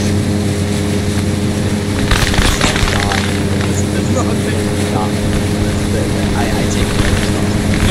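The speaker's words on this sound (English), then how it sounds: "Helicopter." Helicopter in the video game Arma III, a steady rotor drone with low thumping hum running throughout, loud and continuous, with players talking over it.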